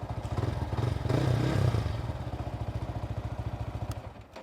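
Yamaha R15M motorcycle with a 183cc block and a carbon fiber tank pad, its engine revving up briefly before dropping back to a rapid, pulsing idle, close and fairly loud, with no voices.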